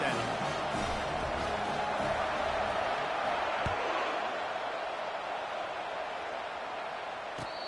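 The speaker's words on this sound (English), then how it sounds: "This crowd bringing the energy and noise early." Steady roar of a stadium crowd at a football game just after a touchdown and kickoff, a dense, continuous wash of cheering and noise that fades slightly toward the end.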